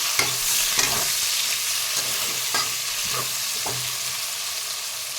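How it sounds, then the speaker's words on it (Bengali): Chopped onions and green chillies with bay leaf frying in a pan for chicken curry, making a loud, steady sizzle with a few soft stirring scrapes. "এখানে কেটে রাখা পেঁয়াজ আর কাঁচা লঙ্কা দিয়ে দেব। ভালো করে ভেজে নেব।"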